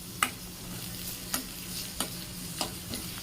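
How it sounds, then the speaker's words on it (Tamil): Onions and curry leaves sauté in spiced oil for a Chettinad mutton gravy, giving a steady, fairly quiet sizzle with a few sharp scrapes of a stirring spoon, close by and with no speech. "இப்போ இதில் கட் பண்ணி வச்சுருந்த வெங்காயம், கருவேப்பிலை இதில் சேர்த்துருக்கேன். இப்போ இதை நல்லா வதக்கிக்கோங்க."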